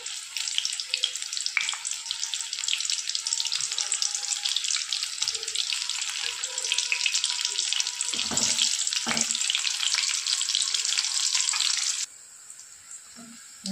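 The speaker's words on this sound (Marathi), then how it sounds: "आता आपण अशाच प्रकारे बाकीच्या पण सोयाबीन वड्या छान आता तळून घ्यायच्या आहेत" Soybean vadis deep-frying in hot oil, a bright continuous sizzle with crackling bubbles that holds steady for about twelve seconds, with brief stirring knocks midway, then drops abruptly to a quiet low hiss near the end.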